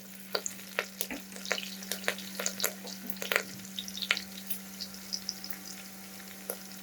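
Ginger and green chillies sauté in oil for a traditional Gujarati seven-grain khichdo, giving a soft, steady sizzle with scattered crackles and light pops close by. A low constant hum sits underneath and no one speaks.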